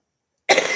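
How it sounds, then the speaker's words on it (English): A single short cough breaks abruptly out of silence, close and fairly loud, from a woman dressing up for a New Year's Eve outing after drinking wine. "I think the wine is not helping with the cough that I'm encountering."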